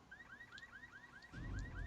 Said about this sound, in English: So let's step on this car alarm.